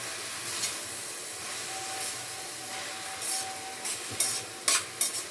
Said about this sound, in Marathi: आता ही अशी इकडच्या साईडनी अशी चांगली भाजी हलवून घ्यायची